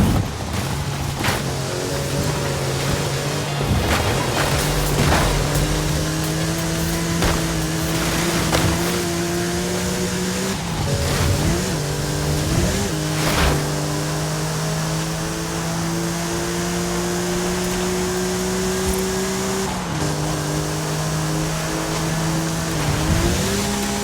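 Engine drone of a car driving around a map perimeter in a multiplayer video game, a steady tonal hum with shifting pitch, several brief bursts and knocks throughout, no voice over it.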